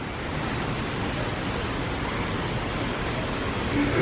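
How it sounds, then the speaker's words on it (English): Steady waterfall at EPCOT's Canada pavilion, a constant broadband rush of falling water, moderately loud and unchanging, with no voices over it. "Nice waterfall."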